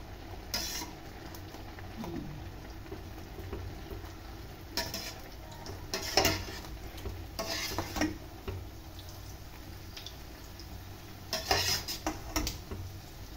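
Spaghetti stirred in a pot with a utensil, giving intermittent scraping clinks and knocks against the metal at close range, quiet, with no talking.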